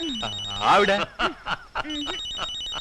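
A phone rings in a repeating electronic pattern beneath a person speaking briefly close by.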